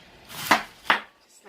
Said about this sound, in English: And I'm just going to cut it into pieces so I can put it into the processor.